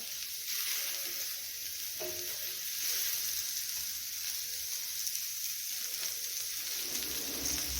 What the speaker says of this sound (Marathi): तर आता आपण कांदा भाजून घेऊया बोंबील करण्यासाठी